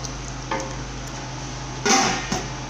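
Editan soup with Titus fish and blended crayfish being stirred in a pot: a low steady hum with a few soft scrapes and one louder burst of stirring near the end.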